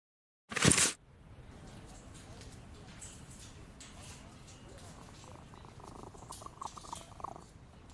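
A cat purrs in a Sherlock Holmes video game, a soft continuous rumbling purr that follows a brief loud burst at the start.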